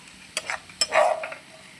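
Frying and stirring in a pan over a low flame, a soft sizzle with a few quick scraping strokes of a spatula, close and fairly quiet, no voices.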